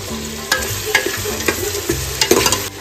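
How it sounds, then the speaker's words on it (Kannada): Vegetable pulao masala frying in a pan, a loud, close sizzle cut by repeated scraping strokes of a spatula stirring the mixture. "ಇದನ್ನು ಚೆನ್ನಾಗಿ ಫ್ರೈ ಮಾಡ್ಕೊಳ್ಳೋಣ."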